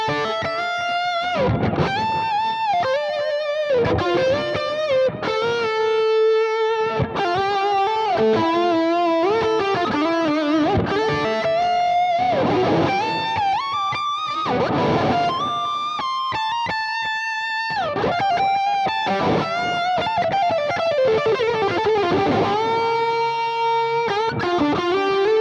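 Electric guitar through a Mesa Boogie Lone Star amp rings out with lush reverb: melodic, sustained lead lines with bends and pauses, loud and close, with notes trailing off into spacious reverb tails.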